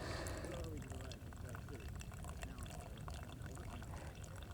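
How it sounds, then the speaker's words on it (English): A slow, steady stream of water pours into coffee grounds from an ultralight camping coffee kit, a continuous close gurgling wash with no pauses. "I like to do just sort of a nice slow pour into the middle of the grounds"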